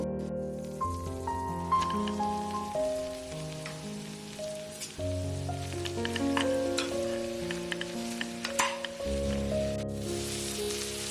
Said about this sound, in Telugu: ఇప్పుడు వెల్లుల్లి, ఇప్పుడు బీరకాయ వేసుకుందాము.